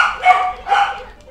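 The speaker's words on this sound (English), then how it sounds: "That's the dog." A dog gives two short, sharp barks a moment apart, nearby and fairly loud, with the second trailing off.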